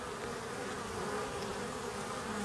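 Honeybees buzz at a pair of beehives during a spring inspection, a dense, steady, close hum with no talk.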